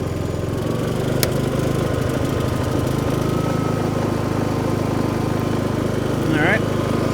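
Predator 5000 generator running on gasoline under load from a space heater: a steady, close mechanical engine drone that holds evenly throughout.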